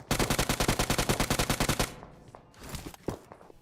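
A UMP45 fires in PUBG, a close, loud rapid burst of evenly spaced shots lasting almost two seconds, followed by quieter scattered in-game sounds and a few fainter shots.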